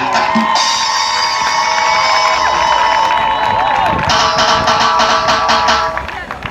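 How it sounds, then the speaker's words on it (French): A large outdoor crowd at a donation event in Port-Bouët cheers and claps for the artist Kedjevara, loud and sustained, with shouts and whistling tones over the roar before it eases at the end. "Est-ce qu'on peut applaudir Que Guevara?"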